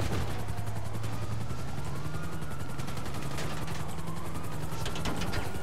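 Several helicopters in the GTA Online video game whir with a steady rotor drone under dense, continuous gunfire and mechanical clatter, loud and constant throughout.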